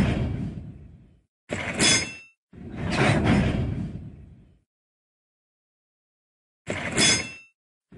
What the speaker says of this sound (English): Make the repair using the track pieces.